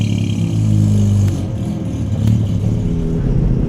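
A 1970 Mazda Cosmo's rotary Wankel engine revs hard toward 9,000 RPM, a loud, steady high-pitched drone that swells and dips slightly as the throttle is held, with no talking over it.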